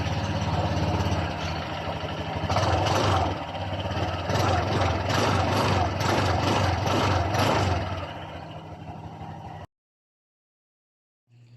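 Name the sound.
Honda Click 125 motor scooter engine idling through muffler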